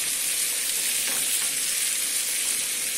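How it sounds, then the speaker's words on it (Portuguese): Small shrimp frying in a pan of oil with annatto and onion, a steady close hiss and crackle of sizzling that holds evenly throughout with no voices. "Tô torrando aqui um pouquinho de camarão aratanha."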